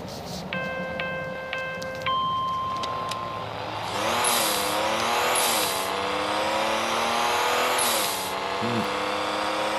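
A race car's engine in a video game with a seven-gear gearbox, revving hard and rising through the gears in repeated sweeps. It stays loud and continuous throughout, with short game beeps at the start.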